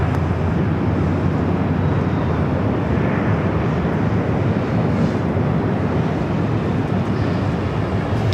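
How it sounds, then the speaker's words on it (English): A Boeing 737-700 jet taking off at LAX fills the clip with a loud, steady, broadband engine roar that holds without a break, edged with wind rumble. "Getting this flight headed to Denver, 737-700. Looks like a little turn and burn action."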